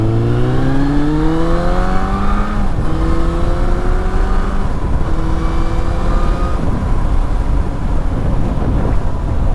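A Suzuki Bandit motorcycle engine pulls hard through rising revs, pitch climbing in a couple of surging sweeps before settling into a loud steady drone, close and alone with no talk.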